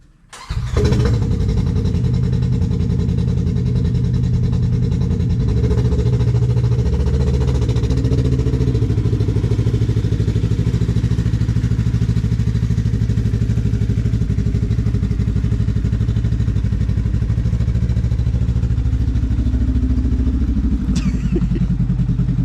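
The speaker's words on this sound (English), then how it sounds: "This is our 2021 Polaris General XP 1000." 2021 Polaris General XP 1000 side-by-side starting up in a shop, then idling loud and steady with a deep rumbling throb close by, a brief rev change near the end.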